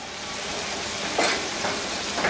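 Oil hisses and crackles in a pan as pointed gourd fries, a steady close sizzle with a few brief louder bursts as pieces are stirred, and no voices.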